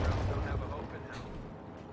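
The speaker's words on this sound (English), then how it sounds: "Oh, Stuka Barrage is going to be on these M1s." Stuka dive bomber barrage explosions in Company of Heroes 2 striking M1 units, a dense continuous rumble of booms and blasts rolling loudly throughout, with a voice commentating over the battle.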